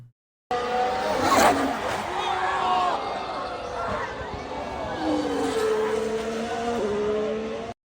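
F1 race cars at turn 3 of the Miami Grand Prix, engines screaming and shifting pitch as they brake and accelerate through the corner, loud and close, with crowd voices mixed in.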